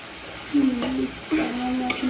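Fish sizzles in hot oil in a frying pan, a steady close crackle with a couple of brief scrapes as the pieces are stirred.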